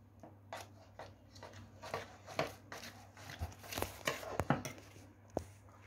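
Homemade slime made from four ingredients is stirred and mixed by hand, giving quiet, irregular sticky squelches and clicky taps at close range.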